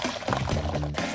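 Water pours through a funnel and tube rigged to dispense ping pong balls, a close, continuous gushing splash lasting about a second with no voices.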